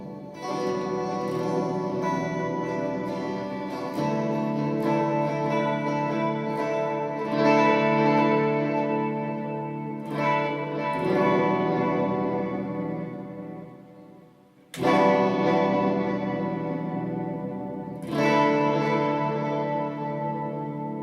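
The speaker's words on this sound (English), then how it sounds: "We hear the electric guitar with the reverb." Electric guitar played through an amp with reverb switched on, sustained ringing chords struck several times, each washing out in a long echoing tail, loud and close with no talking.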